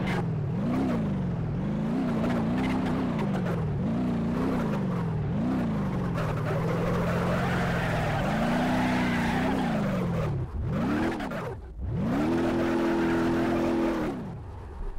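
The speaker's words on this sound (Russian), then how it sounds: "У нас глушитель к фигам отвалился" A car in the crash-test driving game The DRIVE roars loudly after its muffler has fallen off, its engine revving up and down in repeated surges, then dropping briefly before climbing again in a sustained, close, raspy drone.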